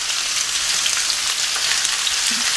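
Sliced onions fry hard in hot oil over a high flame with a loud, dense, continuous sizzle like heavy rain. The sound stays close and even throughout, with no talking.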